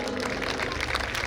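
Loud audience applause at a Hanuman Janmotsav celebration forms a continuous, thick patter of many hands clapping, with crowd noise blended in.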